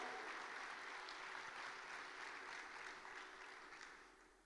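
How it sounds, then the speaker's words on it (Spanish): A church congregation claps in sustained, dense applause that holds steady, then gradually fades toward the end. "Dale fuerte ese aplauso."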